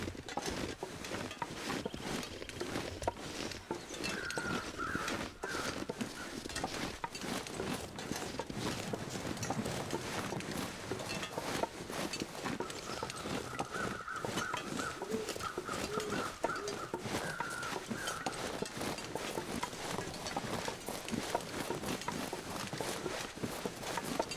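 Bird flapping up abruptly in a quiet outdoor scene in The Long Dark, with brief cooing-like bird calls over a steady wind and rustle background, moderately near, no voices.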